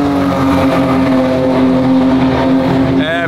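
A Ferrari F8 Tributo sports car with 720 PS runs nearby, its engine holding a steady, loud drone with strong harmonics, and a voice breaks in briefly near the end.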